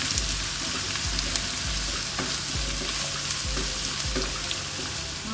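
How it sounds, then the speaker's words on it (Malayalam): Onion, ginger and garlic sautéing in a pan, a steady close sizzle broken by regular scraping thuds of a spoon stirring about once every second, with no voices. "ഇതൊന്ന് നല്ല വഴറ്റിയെടുക്കാം."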